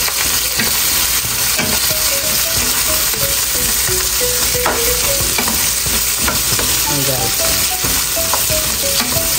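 Yakiniku meat stirred and frying in a pan, a loud steady sizzle with scraping and clinking of the utensil against the pan throughout, no talk.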